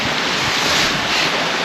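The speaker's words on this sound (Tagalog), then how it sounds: "So maulan, medyo mahangin at maulan pa rin konti." Steady rushing wind buffets the microphone with a constant broadband hiss on Kalanggaman Island, blustery weather with light rain; no voices.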